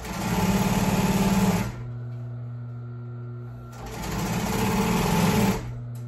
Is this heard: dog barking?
no